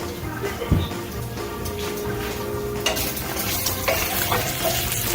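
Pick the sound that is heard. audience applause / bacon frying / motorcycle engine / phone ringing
bacon frying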